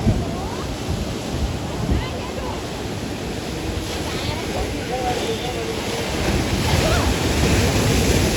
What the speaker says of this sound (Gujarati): દરિયામાં તોફાની મોજા